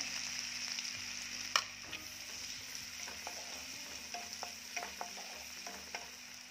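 Finely chopped onion sizzles and fries in hot butter in a pan, a steady crackle broken by occasional stirring clinks and scrapes, close and moderately quiet, for a Marathi green chicken dish.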